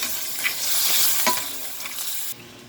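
Crab and garlic sizzle in hot margarine while being stirred, a bright steady frying hiss with a few scraping knocks of the utensil in the pan, close up and without talk.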